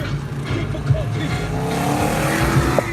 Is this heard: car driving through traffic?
yes